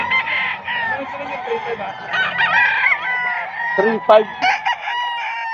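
A kalidong stag rooster crows loudly and close by in a long, wavering call, followed by a few clucks. Someone speaks briefly in the background.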